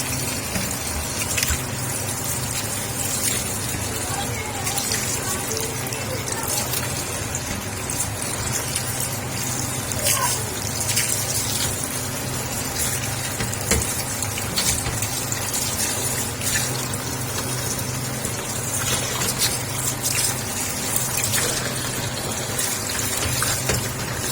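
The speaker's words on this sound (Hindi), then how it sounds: "ऐसे एक एक दो दो पकड़ के इस तरह से अच्छे से हम पानी के अंदर से निकाल लेंगे।" Bitter gourds are swished and lifted out of a basin of water by hand, giving a steady splashing and trickling that runs continuously, with no talk.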